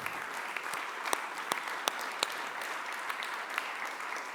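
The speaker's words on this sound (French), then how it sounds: "je voudrais vraiment qu'on l'applaudisse pour l'engagement qui a été le sien" A conference audience at an opening plenary session applauds a retiring colleague, a soft distant patter of many hands with a few sharper individual claps standing out near the front.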